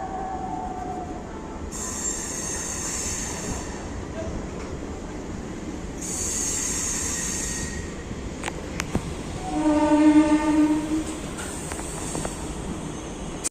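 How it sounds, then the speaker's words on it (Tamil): An Arakkonam MEMU fast local passenger train on its inaugural run departs the station with a steady rumble, hissing bursts and a loud wheel squeal partway through, all close by. "நம்ம எக்ஸாக்டா பாத்தீங்கன்னா 1 minute நம்ம இந்த FDFS அரக்கோணம் ஃபாஸ்ட் லோக்கல் கிளம்ப போகுது"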